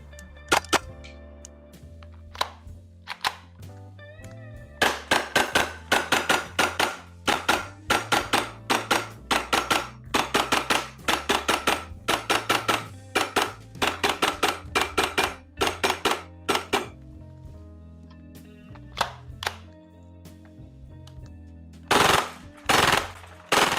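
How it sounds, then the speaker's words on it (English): Maruyama MP9 gas blowback airsoft gun firing in single shots, double taps and rapid full-auto strings, sharp loud cracks with mechanical clatter in irregular bursts and pauses, ending in a couple of separate shots. "My shooting cadence was also random, with single, double taps, and random strings of fire"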